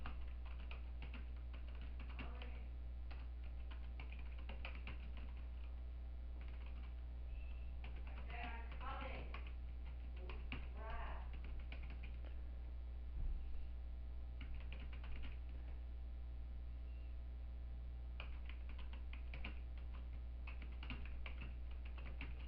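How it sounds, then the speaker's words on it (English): Computer keyboard typing as a question is entered, a long run of close, crisp key taps in irregular bursts with brief pauses, over a steady low hum. "Here is an example question I'm going to type in."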